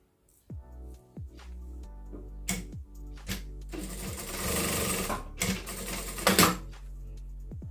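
Sewing machine stitching through quilt batting with the upper thread pulled very tight, running in short close bursts that stop and restart, then a longer steady run of rapid mechanical stitching.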